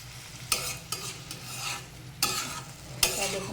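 Kochur loti (taro stolons) and pumpkin stirred in an oiled frying pan: a steady soft sizzle with a few sharper scrapes of the spatula at irregular moments, close and alone without talk.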